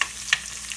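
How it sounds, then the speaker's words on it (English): Garlic fries over high heat in a pan, giving a brief, steady hiss with one small click or spatter partway through. "The first thing I'll be putting in would be some garlic. Fry that up a little bit on high heat."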